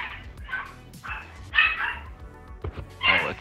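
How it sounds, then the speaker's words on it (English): Two dogs bark somewhere in the background in short, sharp, high-pitched bursts that come in uneven clusters, with no voices in between. "Oh, that's not a parrot, it's a dog."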